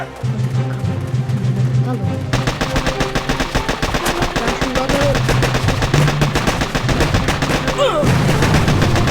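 Rapid bursts of gunfire during an attack in the mobile strategy game Boom Beach, dense and loud, with rattling automatic fire and blasts running almost continuously, while a voice talks over the game sounds.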